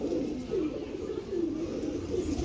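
Antique-breed pigeons kept by a breeder coo in low, rolling repeated phrases close by, a steady murmur of several birds with no voices over it.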